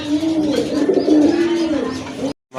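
Male and female running pigeons coo in a steady, low rolling drone close by, soft throaty pulses continuing for a couple of seconds before cutting off abruptly.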